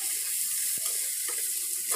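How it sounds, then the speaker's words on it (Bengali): Chopped onion frying in a hot pan as a chicken dish is cooked, a steady close sizzle throughout with a brief scrape of stirring partway through. "পেঁয়াজটাকে আমি ভালো করে একটু নাড়িয়ে দেবো"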